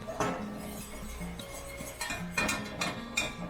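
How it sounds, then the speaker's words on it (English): A whisk working melted butter and flour in a pan for bechamel over very low heat, giving light metallic clinks and taps against the pan in irregular bursts, close up with a faint background hum and no voices. "add in half of the all-purpose flour and whisk it up"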